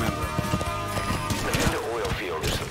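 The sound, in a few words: horse in Metal Gear Solid V video game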